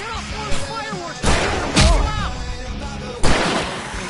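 Fireworks bursting during a chaotic stage fight in the Alan Wake game, with several sharp booming blasts spread across the moment, the loudest near the middle, over a busy mix of game noise and people talking.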